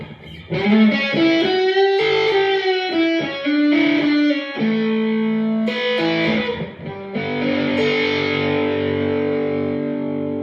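An electric guitar through a Fuzz Face fuzz pedal model on a Positive Grid Spark amp plays sustained, heavily fuzzed notes and chords, thick and saturated, ringing out loud with no voices.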